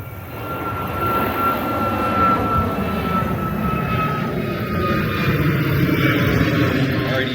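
An aircraft flies over near an airport outdoors, a steady, fairly loud engine roar that swells slightly and holds throughout, with a faint whine above it and no talk.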